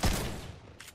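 Gunfire in the video game Fortnite comes as a loud, heavy blast at the start that rolls into a rumbling decay, followed by a fainter, sharper shot near the end, with no voices.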